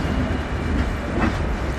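The Karnataka Express, bound for New Delhi from Solapur station, rolls past near a railway bridge, a close, continuous rumble of wheels and carriages with no voices.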